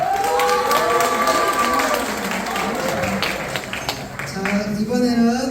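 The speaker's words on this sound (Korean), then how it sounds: "우리 장로님께 감사의 박수." A church congregation gives a round of thankful applause for an elder, with clapping and cheering voices running continuously as a lively crowd sound beneath overlapping talk.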